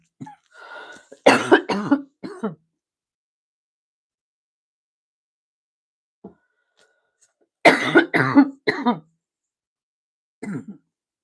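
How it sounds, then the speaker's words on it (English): Two bursts of harsh coughing, each a quick cluster of several coughs, close to the listener and separated by a long silent pause. "I hope I don't go into a coughing spell."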